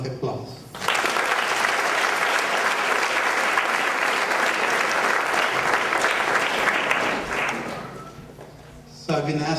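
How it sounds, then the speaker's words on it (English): Sustained applause from a large audience at a silver jubilee celebration, a thick, even roar of clapping for several seconds that fades out as a voice resumes speaking. "a big round of applause"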